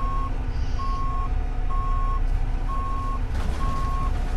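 A bus's reversing alarm beeps steadily, five evenly spaced high tones over a constant engine rumble.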